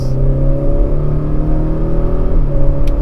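A 2019 Acura RDX A-Spec in Sport Plus mode under hard acceleration, its engine holding a loud, steady, rising roar and whir heard from inside the cabin, with no voices over it.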